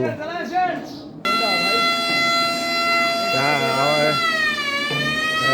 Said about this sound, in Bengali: ইতিমধ্যে সাইরেন বাজিয়ে দিয়েছে, কিছুক্ষণের মধ্যে ছেড়ে দেবে।